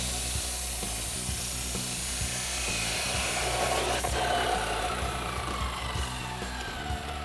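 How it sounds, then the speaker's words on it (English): A chop saw cuts through an exhaust mid-pipe for a Roush single exhaust system on a 2010-2014 Ford Raptor 6.2L, making a loud, steady grinding whine that runs unbroken for about seven seconds with no voices. "Let's go ahead and bring this over to our chop saw, make a quick cut"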